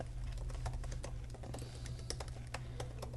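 Brisk typing on a computer keyboard, close-up clicks in a quick irregular rhythm over a steady low hum, with no voices.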